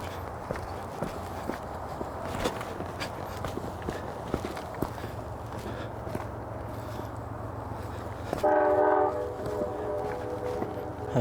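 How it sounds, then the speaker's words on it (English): A passing train sounds its horn partway through, a short loud blast over a low rumble heard from a wooded trail overlook near Harpers Ferry, West Virginia, with footsteps crunching nearby. "A train."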